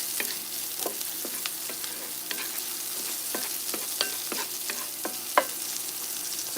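Onions sautéing in a pan while vegan oxtails are cooked, a soft continuous sizzle broken by scattered stirring taps and scrapes, quiet and close, no voices.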